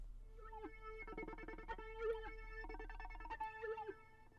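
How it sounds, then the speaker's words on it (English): A bright, plucky synth lead plays a quick, bouncy melody with short echoing notes over a steady low bass hum. "It just sounds like a weird, like, plucky lead."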